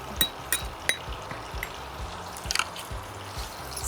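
Brown sugar stirred into melted butter in a pan, giving soft wet squishing and faint sizzling with a few small clinks of the spoon, quiet and close, no voices.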